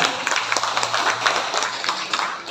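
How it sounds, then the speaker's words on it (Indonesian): Audience at a village council training event clapping hands together, a brief scattered round of applause heard somewhat distantly in a hall. "Tepuk tangan untuk kita semuanya."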